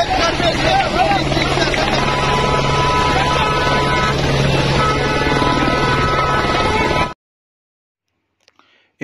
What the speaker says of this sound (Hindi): ये हेलीकॉप्टर इधर ही उतारा जाएगा।